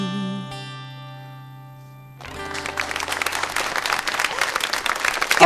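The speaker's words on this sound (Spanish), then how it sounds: "Aplausos para Fabiola" A held musical tone fades out, then an audience bursts into applause that grows louder and continues to the end.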